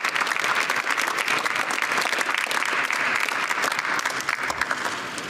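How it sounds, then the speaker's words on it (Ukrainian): Sustained, dense applause from heads of state and government at a European Council summit welcoming Volodymyr Zelensky, steady and loud throughout, without voices over it. "Глави держав та урядів зустрічають Володимира Зеленського оплесками"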